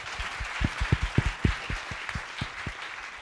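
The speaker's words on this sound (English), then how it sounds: "please join me in giving the panel a round of applause" A smaller audience claps for a panel at the close of an AI summit, with individual hand claps clearly distinct in a loose, uneven rhythm over a light background wash, then thinning out toward the end.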